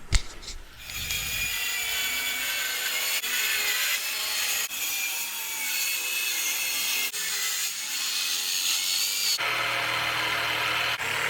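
A saw cutting steel flat bar on a bench, a continuous bright grinding rasp that holds steady and close, with brief shifts in pitch as the cut goes on.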